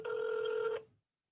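A single steady telephone tone sounds for under a second, clear and close, then cuts off into silence.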